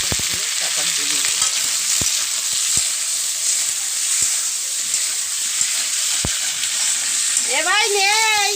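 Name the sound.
frying egg and potato with spices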